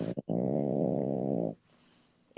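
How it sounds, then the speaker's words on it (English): A French bulldog snoring close by indoors: one long, loud, rattling snore lasting over a second, followed by a quieter breath. "If you hear my dog snoring"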